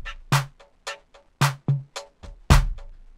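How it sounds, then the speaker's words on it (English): A rock and metal drum loop generated by Drum Monkey software: punchy kick and snare hits with crisp cymbal splashes in a steady rhythmic pattern, close and loud, with no voices over it. "This is the sound of proven rock and metal drum loops."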